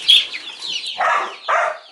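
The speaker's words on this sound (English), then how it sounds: "Oh, the guinea bird? Yeah, but they make a lot of noise if strangers come." Guinea fowl on a small farm give a run of harsh, raspy calls, two bursts standing out clearly near the end, loud and close with no talk.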